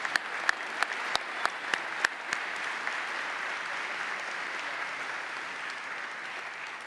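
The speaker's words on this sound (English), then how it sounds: "Please join me once again in applauding and recognizing all of these great award winners." An audience at a graduate programs graduation ceremony applauds award winners, a broad steady wash of clapping with a few sharp individual claps standing out near the start.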